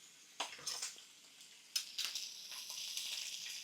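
Streaky American pork-belly bacon sizzles and crackles in a pan over moderate heat, with a few sharp pops and clatters early on, then a steady, close frying hiss that swells and holds to the end.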